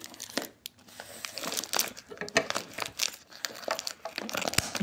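Paper crinkles and tears as a watch package wrapped in magazine paper is ripped open, a close series of irregular crackling rips and rustles with no talking.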